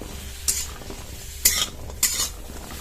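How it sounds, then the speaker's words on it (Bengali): Green chilli, an onion piece, ginger and garlic cloves frying lightly in a hot wok, a soft steady sizzle broken by three short scraping stirs, close and moderately loud with no talking. "গরম কড়ার মধ্যে দিয়ে দেবো কাঁচা লঙ্কা, একটা পেঁয়াজের টুকরো, 2 টুকরো আদা, কয়েক কোয়া রসুন। এটা গরম কড়া হালকা করে ভেজে নেব।"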